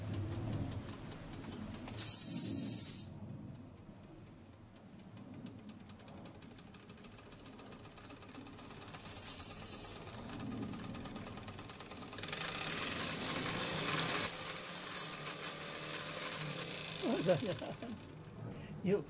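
Three sharp, shrill whistle blasts, each about a second long, spaced several seconds apart over quiet background rumble and faint voices.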